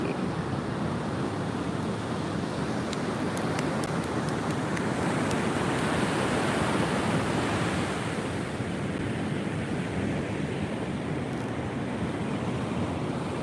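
Surf breaks continuously on Sawarna beach, producing a dense, loud wash of crashing water mixed with gusty wind noise. A few faint clicks appear early on, and no one speaks.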